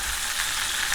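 A pork chop frying in a pan while being basted with a spoon, a brief steady close sizzle and spatter without talking.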